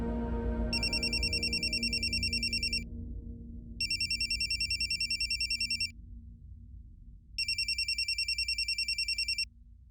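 Telephone ringing during a phone call in a Telugu TV serial scene: three clear electronic ring bursts, each about two seconds, separated by short pauses, loud over a low background hum.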